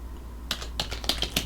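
Quick, irregular clicks of computer keys being typed, close and clear, in a short burst after a brief quiet moment.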